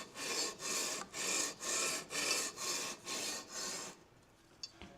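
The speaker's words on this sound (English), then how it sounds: "I'm just going to do a few quick swipes all the way across just to take out those heavier 220 sanding scratches" Sandpaper swipes across a guitar fingerboard and frets to remove 220-grit scratches: eight even, rhythmic rasping strokes, close and clear, then a brief quiet tap.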